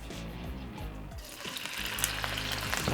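Bacon frying in a pan for a creamy bacon-cheese macaroni, a steady close sizzle that swells louder after the meat goes in, with faint clatter and stirring and no talk.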